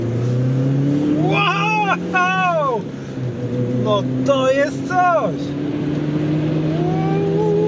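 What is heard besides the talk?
Volvo V40 T4 engine revving when accelerating in second gear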